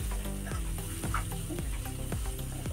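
Potatoes tossed into a spice mixture in a pan give repeated scraping stirs at a steady rhythm over a faint sizzle. The sound is close and fairly quiet.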